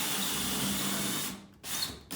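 A power drill runs a pilot bit through a wooden joist in a bedroom renovation, a close, steady whine that stops abruptly, then starts again for a short burst before cutting off.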